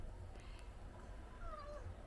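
A cat meows faintly in a quiet room, with a soft rising-and-falling call near the end.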